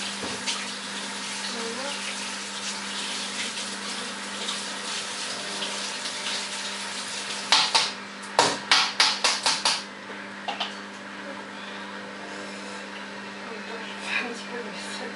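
Tap water runs steadily into a kitchen sink while dishes are rinsed, a constant close hiss with a burst of clattering splashes midway and a brief spoken word.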